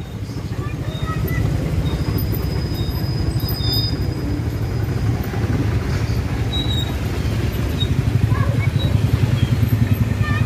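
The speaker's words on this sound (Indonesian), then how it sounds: "Tuh, ada kereta" A train passes near a steep, narrow alley crossing at Lebak on the route through to Pasar Minggu, Jakarta, its loud continuous rumble and rhythmic rattle building steadily, with nearby voices and motorbike engine noise mixed in.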